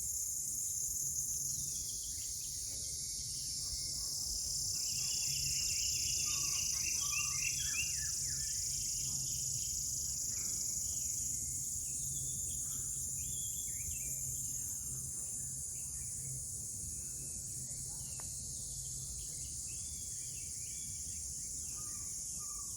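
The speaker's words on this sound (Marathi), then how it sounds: "सुंदर सुंदर पक्षी आणि रातकिड्यांचा आवाज आहे" A loud, constant high cricket drone fills a dense Konkan forest in the evening while scattered bird calls chirp in the middle distance, with no one speaking.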